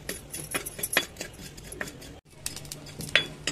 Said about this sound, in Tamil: இப்போ சீரகம் வறுக்க போகிறோம்.